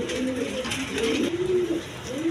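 A pair of coloured Gola pigeons cooing up close, several soft throaty coos rising and falling in quick succession with no talk.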